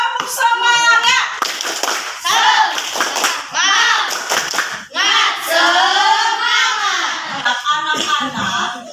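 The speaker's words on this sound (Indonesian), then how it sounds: "Ya, tepuk semangat." Schoolchildren in a classroom perform a rhythmic spirit clap (tepuk semangat), bursts of patterned clapping mixed with loud chanting voices, close and energetic throughout.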